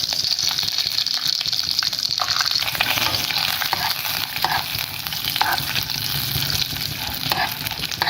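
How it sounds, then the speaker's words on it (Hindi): Crushed edible gum (gond) frying for winter laddu, a steady dense sizzle and bubbling that runs unbroken throughout, loud and close with no talk. "ये मैंने चारों गूंदें ली हैं, इनको मैं दरदरा सा कूटूंगी और मैं इनको फ्राई करती हूँ।"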